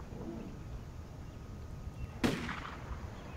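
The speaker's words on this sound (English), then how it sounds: "And there's a gunshot." A single sharp gunshot in the zombie survival game Project Zomboid, one loud broadband crack fading quickly, standing out over a steady low background murmur.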